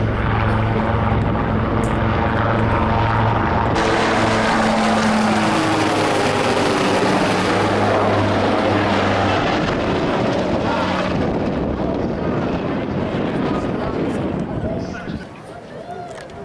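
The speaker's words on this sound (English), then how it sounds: "All right, look to your left. P-51 Mustangs. There they are." P-51 Mustang fighter planes fly past at an air museum event, a loud propeller engine roar that swells and then fades amid wind noise, with people talking throughout.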